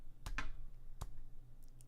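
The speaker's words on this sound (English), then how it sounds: "I'm hitting the mouse pad." A hand slaps a mouse pad in a few sharp, separate hits: two close together at the start, one more about a second later, then faint ticks. Quiet room hum runs underneath.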